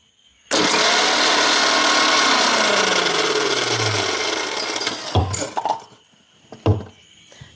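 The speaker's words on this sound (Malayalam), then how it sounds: "ഇന്ന് നിങ്ങൾക്ക് ശരിക്കും മിക്സി അടിക്കുന്ന ശബ്ദം കേൾക്കാം" A kitchen mixer grinder whirs loudly for about five seconds while grinding green chillies and onion, its motor pitch sliding downward as the load settles, then cutting off, followed by a few clattering knocks.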